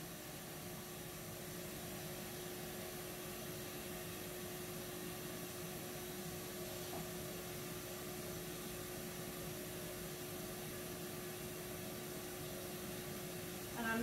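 A grooming vacuum clipper system running on a dog, a steady, even whooshing suction hum with a faint motor tone, constant and unbroken from start to finish.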